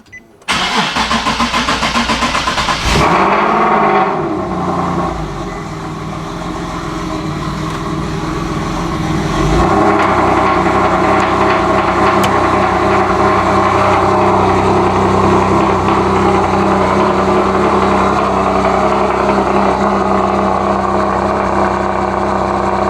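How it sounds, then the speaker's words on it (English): A Nissan 370Z Nismo with a valve-controlled full exhaust cold-starts: a brief starter crank, a sharp loud flare of revs, then a lower settle and a steady, raspy high idle that rises again and holds loud to the end. "I'll show you guys what a cold start sounds like"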